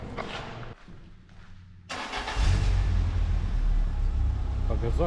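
A car engine starts and then revs up loudly, a sustained low roar building after a brief quieter stretch, with a voice heard over it near the start.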